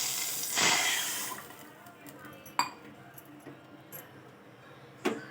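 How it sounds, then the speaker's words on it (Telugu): Water is poured from a small glass briefly with a splashy rush, followed by a few light clinks of dishes and utensils. "చిన్న గ్లాస్తో వాటర్ వేస్తున్నాము"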